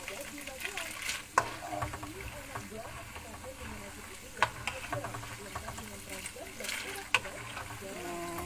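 Peanuts frying over a low flame and being stirred in a pan for garlic peanuts, a steady bubbling sizzle with occasional sharp scrapes of the spatula, heard close up.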